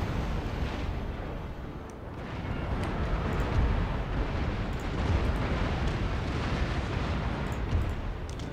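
Naval cannon fire from a first-rate ship battle in Empire: Total War rolls on as a continuous heavy rumbling roar of overlapping booms, fairly distant and muffled, with no talk.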